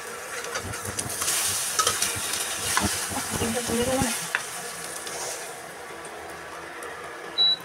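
Sugar paratha fries on a home stove while being prepared for a wedding, a soft sizzle under scattered scraping and clinking from stirring, busier in the first half and quieter afterward, with a brief high beep near the end.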